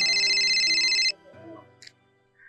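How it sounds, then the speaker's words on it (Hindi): A bright electronic phone ringtone plays loudly for about a second, then cuts off, followed by quieter clicks and a short tone. "अरे फोन आ रहा है"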